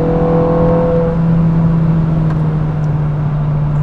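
A 430 sports car with a six-speed single-clutch gearbox accelerates hard, its engine note a loud, close, sustained drone that climbs slightly in pitch and holds steady for several seconds with no talk.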